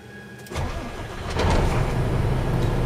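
A tractor engine cranks and catches about half a second in, then runs at a steady idle that grows slightly louder and rougher, alone with no voices.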